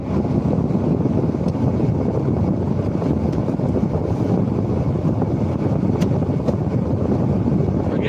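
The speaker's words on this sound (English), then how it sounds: "Let me just put the blower on for a minute." Heater blower whirring steadily inside the cab of a milk float, a continuous broadband rush of air held at an even, fairly loud level with no talk over it.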